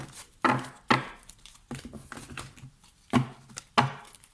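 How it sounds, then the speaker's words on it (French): Oracle cards shuffled by hand, heard as a handful of sharp, papery slaps and flutters at uneven intervals, close and fairly loud, with no speech. "Alors, je mélange bien les cartes"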